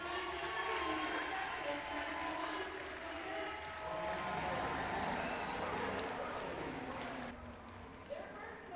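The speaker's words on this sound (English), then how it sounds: "can we get a round of applause for our finalist alliances?" A crowd applauds and cheers finalist alliances at a FIRST robotics state championship in Michigan, a sustained wash of clapping across a large arena with a voice talking over it on the loudspeaker.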